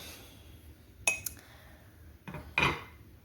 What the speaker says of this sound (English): I'm just going to kind of stir it around